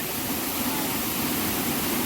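Water flowing at a small waterfall at Pawankhind among moss-covered rocks after the rain has stopped, a continuous, even rushing roar with no voices.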